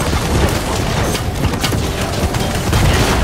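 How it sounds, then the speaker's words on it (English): Explosions and gunfire from the video game Firefall form a loud, dense, continuous barrage of booms and blasts with no clear gaps. "There's too many explosions."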